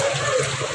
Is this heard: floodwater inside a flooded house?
yes